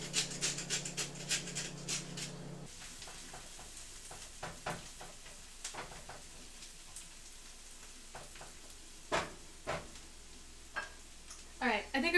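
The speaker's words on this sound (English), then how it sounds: "Alright, got the onions on the stove." Onions sizzle and fry in a pan on a home stove, a steady soft hiss with scattered clicks and scrapes of stirring, fairly quiet and close.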